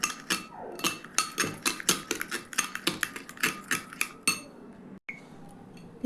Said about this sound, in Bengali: এবার দই বীজটাকে খুব ভালোভাবে মিশিয়ে নেব